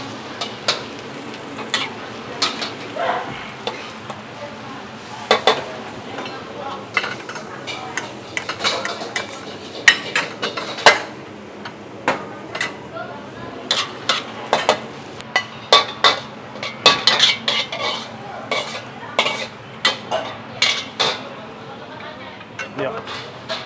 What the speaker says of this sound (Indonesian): Sekarang langsung aja kita plating.